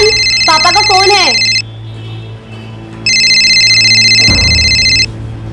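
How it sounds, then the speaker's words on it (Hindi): A telephone rings in two loud electronic trill bursts separated by a pause, with a brief warbling tone before the first ring and a thump near the end of the second, indoors in a crime drama scene. "जयन, पापा का फोन है।"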